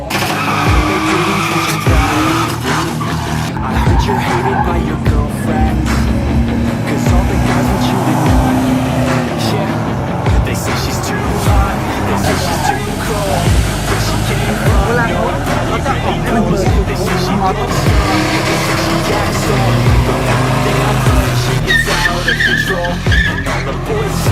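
Race cars at the Ford Fan Festival at a speedway in Pathum Thani, engines roaring and tires squealing continuously and loudly, with a crowd babbling underneath.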